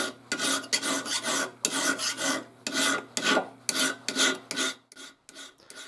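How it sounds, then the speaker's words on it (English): A flat bastard file rasping across a steel knife blank held in a small table vise: loud, close, rhythmic strokes in regular back-and-forth bursts, about a dozen, with no talk. "The one I'm using here to start is a flat bastard file."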